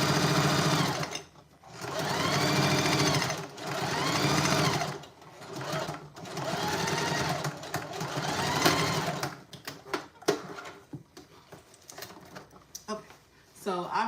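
A sewing machine stitches around a fabric tote bag in several sustained whirring bursts separated by short pauses, ending with a few brief, choppy runs and handling clicks, close and fairly quiet.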